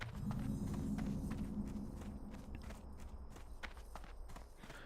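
Horse hooves in World of Warcraft clop in a steady rhythmic gait, quiet and somewhat distant, over a low rumbling background hum.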